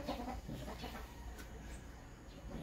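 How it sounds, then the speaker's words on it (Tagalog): Sweater Kelso gamefowl hen from Roy Bunguyan lines at Crossville Game Farm clucking softly in short low bursts early on, fading under steady farm background noise. "ito naman ang isa sa inahin na gagamitin natin. Ang ating signature line na Sweater Kelso"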